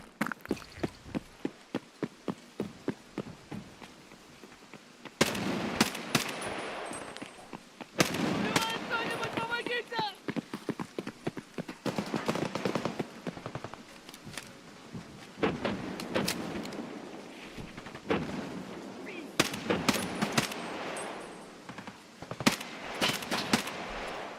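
Escape From Tarkov gunfire plays as repeated sharp shot bursts in several clusters, loud and close, with dense rapid volleys between quieter gaps.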